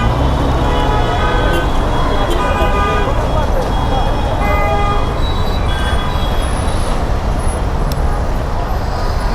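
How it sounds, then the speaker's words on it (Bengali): Dense, jammed city traffic on a Thursday near a railway station, with repeated car and bus horns tooting over a constant roar of engines and road noise, voices mixed in. "কি পরিমাণ জ্যাম বৃহস্পতিবার"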